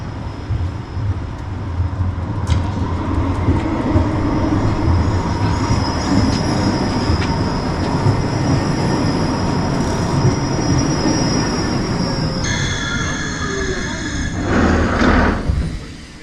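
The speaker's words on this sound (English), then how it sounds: "We're now continuing with the newest type of tram, the type T, the Siemens Avenio" A Siemens Avenio type T tram in Munich runs past with a steady rolling roar of wheels on rails, and sustained high metallic squeals of the wheels rise and shift near the end, loud and close, with no talk.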